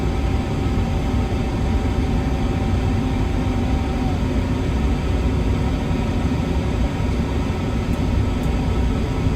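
Inside an airliner taxiing to its stand after a flight to Heathrow, a steady low engine rumble and broadband cabin roar hold constant throughout with no speech.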